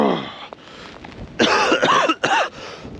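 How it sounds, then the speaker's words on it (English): A few harsh, chesty coughs in quick succession, close and fairly loud, with a short pause before the last burst and quiet between. "And I've got this cough I can't shift."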